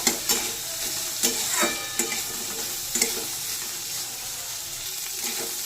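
Vegetables frying in oil with cashews, raisins and torn green chillies, stirred in a pan for dal: a constant close sizzle with periodic scraping strokes of the spatula at a steady rhythm, no voices.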